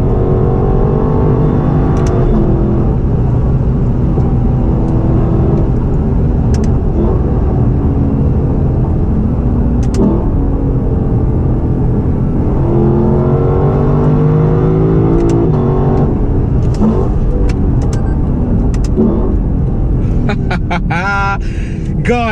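A 2018 Lexus LC500's V8 engine revs and accelerates from inside the car, with a loud, steady exhaust roar that rises and falls in pitch and a few sharp crackles near the end.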